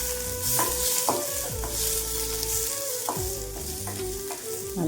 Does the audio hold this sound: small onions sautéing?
yes